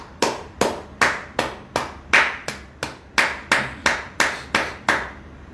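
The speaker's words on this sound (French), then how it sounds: "Applaudissez pour le peuple camerounais." A steady run of about fourteen sharp claps in unison, evenly paced and close, with people clapping for the Cameroonian people and no voices over them.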